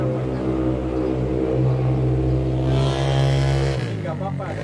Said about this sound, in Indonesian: Ini nggak apa-apa ada suara motor dia, kita blend aja.